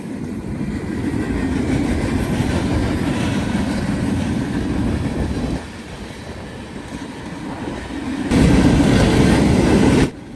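Norfolk Southern train 171 rolls westbound behind a pair of Dash 9 locomotives with an ET-44AC dead in tow, a loud steady rumble of passing railcars with clickety-clack, easing briefly before swelling again near the end.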